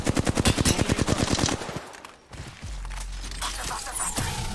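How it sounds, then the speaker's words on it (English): Rapid automatic gunfire in Apex Legends, a steady close burst of evenly spaced shots for about two seconds, then a lull filled with lower rumble and scattered game noise. "They're firing on me."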